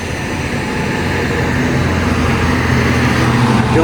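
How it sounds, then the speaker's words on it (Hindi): Steady road traffic rumble on a route near the Jim Corbett jungle, a broad continuous drone of passing vehicles that builds slightly, heard alone without talk. "ऐसा ट्रैफिक इतना आ रहा है ना,"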